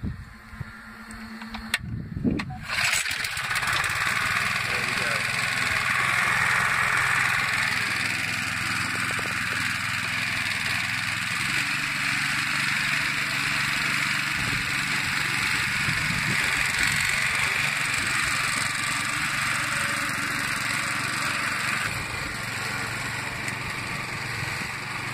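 A small Briggs petrol engine on a radio-controlled lawn mower sputters to life after a pull and then runs steadily at a loud, droning idle close by.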